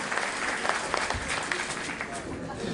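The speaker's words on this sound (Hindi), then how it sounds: "एक बार हाथ उठा के ताली बजा के आमंत्रित करें" Audience applause welcoming a poet onto the stage at a Hindi poetry recital: a short burst of crowd clapping with some indistinct voices mixed in underneath.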